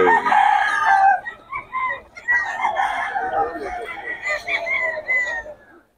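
Several roosters crow loudly in overlapping calls, with some clucking and faint background voices.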